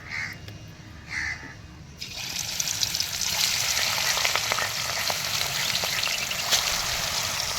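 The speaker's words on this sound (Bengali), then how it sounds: "এবারে তেলের উপরে ভাজবো" Tangra fish rubbed with salt and turmeric drops into hot oil, and a quiet room turns into a loud, continuous, close crackling sizzle. Crows caw outside during the opening seconds before the frying takes over.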